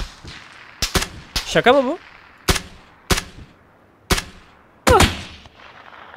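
Sharp, loud gunshots crack out one by one in a shooter video game, roughly six separate blasts spaced irregularly, with a person's voice exclaiming between them.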